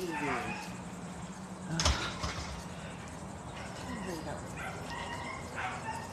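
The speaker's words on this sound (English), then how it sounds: "That's my dog. He's crying from over here." A husky gives high, wavering whimpers and cries that rise and fade several times over steady background noise, with people talking nearby.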